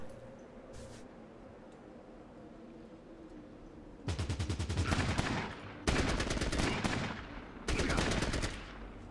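Rapid automatic gunfire from the Fallout Tactics video game comes in three loud bursts after a quiet stretch of low background noise, each burst a dense rattle of shots lasting about a second or two.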